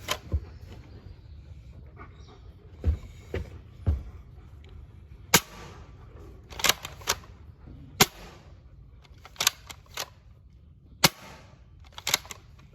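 A modded Nerf Villainator blaster fires repeatedly during a range test: sharp, loud snapping shots at irregular intervals, about a dozen over the stretch, with quiet gaps between them.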